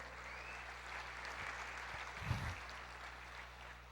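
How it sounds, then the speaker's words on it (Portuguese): Quiet, distant applause from a church congregation during a sermon, a soft even patter with a brief low thump partway through. "Aplauda mais, meu querido."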